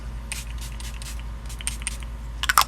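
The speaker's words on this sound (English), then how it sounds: "Definitely want to spray that in the air and let it fall on you, because that was intense" Makeup setting spray misted toward the face, a run of short, crisp hissing spritzes close to the microphone with brief gaps between, ending in a quick cluster of sharper bursts.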